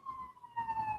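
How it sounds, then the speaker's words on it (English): An emergency vehicle passes with a faint, steady siren wail heard in the distance over quiet background. "I don't know if y'all can hear the siren coming by."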